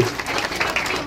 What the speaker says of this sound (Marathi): टाळ्या वाजवूयात सीए मॅडम साठी